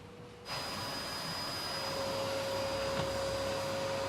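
A vacuum cleaner in a hotel-school work setting starts up after a brief quiet moment and then runs steadily and fairly loud, a continuous broadband whoosh with a faint high whine, with no talking.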